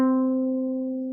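A single ukulele open string, 15 inches long, is plucked once and rings with a clear, steady tone that slowly decays.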